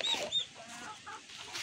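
A pet chicken on a rural Philippine farm gives a few short, close clucks and squawks within a brief moment, with faint background noise.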